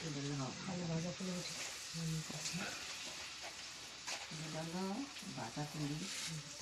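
Oil pitha, rice cakes, fry in hot oil at a village home, with a quiet sizzle running under a voice that talks over most of the sound.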